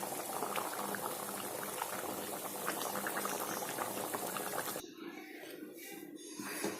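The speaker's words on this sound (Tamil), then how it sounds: "நல்லா மீன் கொதிச்சிருச்சு. இன்னும் கொஞ்சம் கொதிக்கணும்" Meen kulambu, a fish curry with curry leaves, bubbling in a pot: dense, steady close-up boiling that softens into quieter, sparser bubbling for the last couple of seconds.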